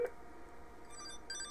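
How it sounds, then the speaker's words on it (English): A cell phone ringing faintly indoors during a phone trunk test, a quiet electronic ringtone with a brief tonal burst near the end, no talk. "There's my cell phone."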